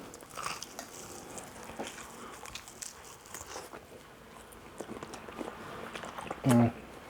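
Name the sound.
biting into crunchy fried pork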